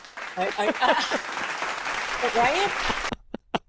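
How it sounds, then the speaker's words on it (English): Audience applause and cheering fill the space for about three seconds, with voices talking over it, then cut off abruptly, leaving a couple of brief sounds. "can we clap or cheer or something for that?"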